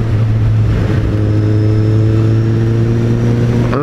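A motorcycle engine holds a steady, loud idle-to-rev drone up close, its strong low hum and stacked harmonics unbroken and alone throughout.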